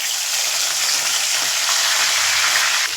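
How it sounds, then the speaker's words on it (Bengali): Mrigal fish pieces fry in hot oil with a loud, dense, continuous sizzle close by, steady for the whole stretch. "মাছ এক পিঠ ভাজা হয়ে গিয়েছে"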